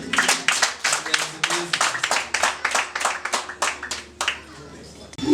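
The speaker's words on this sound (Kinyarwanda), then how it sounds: "mumpera amashyi menshi cyane." An audience at a traditional Rwandan engagement ceremony claps in a quick, steady rhythm of sharp repeated claps, then the clapping briefly fades.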